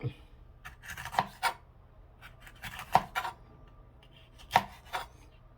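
A knife chops a Scotch bonnet pepper into pieces on a board during home cooking for fish with white rice and vegetables, giving several separate crisp cuts spaced irregularly, close and moderately loud.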